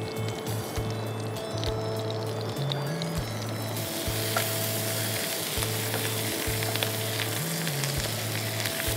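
Bay leaf, chili, turmeric, ginger and garlic fry in hot oil with a steady, loud sizzle, punctuated by repeated scraping stirs of a spoon in the pan; no one speaks.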